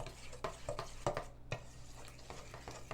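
Pumpkin oat muffin batter being stirred in a bowl, with irregular soft scraping and knocking strokes of a utensil against the bowl, close and fairly quiet under a steady low background hum.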